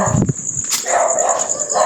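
A dog gives a short, sharp bark nearby, followed by a thin high whine and a steady hiss in the background.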